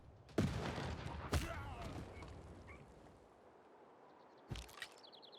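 Cannon fire from the Civilization VI strategy game, with sharp booming reports at about 0.4 s and 1.4 s and another near 4.5 s, each trailing into a rumbling decay over a quiet background.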